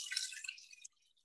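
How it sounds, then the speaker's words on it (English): Water and beef broth poured into a cooking pot for a soldier's stew, a short bright splashing stream lasting under a second before cutting off, heard alone and fairly quiet. "So I'm just gonna pour that in."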